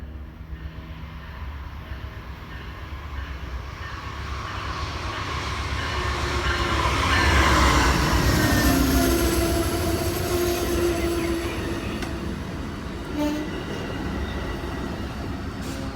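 An Amtrak Midday River Runner passenger train between St. Louis and Kansas City in central Missouri rolls in with a long, swelling rumble and rail roar that peaks midway, with faint wheel squeal and clatter, then eases off.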